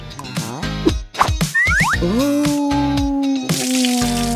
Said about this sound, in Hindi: ओह, उसने गलती से अपने कागज पर पानी गिरा दिया।